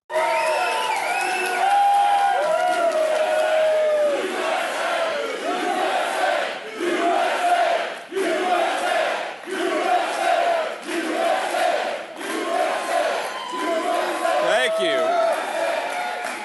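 A large crowd at a political rally roars with loud, sustained cheering and shouting in repeated swelling waves that keep going for the whole stretch, with no single voice standing out above the noise.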